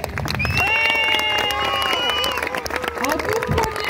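A crowd at a medieval knights' tournament cheers and applauds the archers. Loud, dense clapping mixes with rising shouts and whoops that carry steadily throughout.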